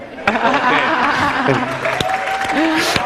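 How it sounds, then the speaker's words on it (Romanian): A crowd claps steadily throughout for a knife-throwing fakir act, with people talking and chattering over the applause. "Aplauze pentru Fakirul Ianis"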